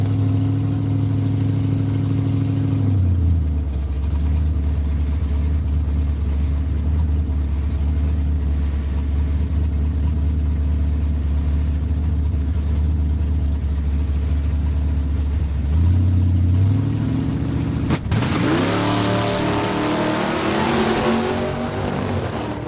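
A Reed Automotive 1978 Nova drag racing down the quarter mile at Saskatchewan International Raceway, its loud engine droning steadily at high revs before a sudden shift and a rising, rasping roar at the end.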